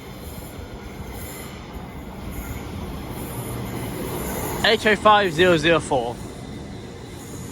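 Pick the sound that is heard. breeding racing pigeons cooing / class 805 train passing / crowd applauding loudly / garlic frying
class 805 train passing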